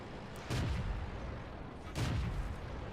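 Two heavy tank cannon shots from World of Tanks, fired at a Churchill during a replay featuring an A43 and an M103; each booming report lands about a second and a half apart over a low battlefield rumble.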